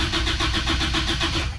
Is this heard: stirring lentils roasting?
no